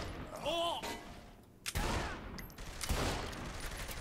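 Gunfire crackles in the open-world crime game Saints Row: The Third, a loud burst of rapid shots mixed with game effects, cut into by brief sharp noises, with a voice briefly heard at the start.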